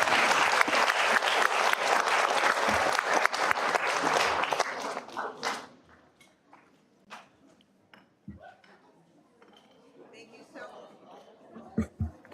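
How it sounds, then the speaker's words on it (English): Warm applause for a school choir at a board of education meeting fills the first five seconds, then fades into scattered claps, a few clinks and light room noise. "Another round of applause for Amazing Choir."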